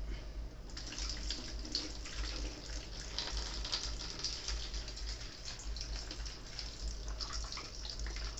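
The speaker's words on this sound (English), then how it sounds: "just wring out some of the excess water, because quite a bit comes out" Water trickles and splashes steadily as soaked moss is wrung out, a close, continuous patter with no talking.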